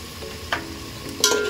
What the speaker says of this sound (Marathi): चांगला हलवून घ्यायचं त्याला.